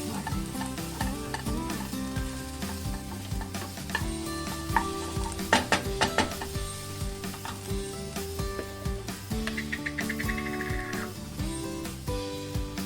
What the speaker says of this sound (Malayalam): എല്ലാം ചേർത്തി സവാള നല്ലോണം വാടി വരും. അതേ അത്രയ്ക്കോളം നമ്മൾ അത് വഴറ്റിയെടുക്കണം.